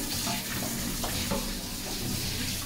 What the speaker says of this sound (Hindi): पहले हम मतलब पनीर के क्यूब्स को फ्राई कर रहे हैं।